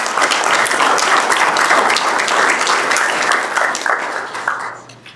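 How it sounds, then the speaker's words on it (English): An audience at an Oklahoma State University biosystems and agricultural engineering event gives a round of applause, dense and sustained clapping that fades out toward the end. "Let's give them a round of applause."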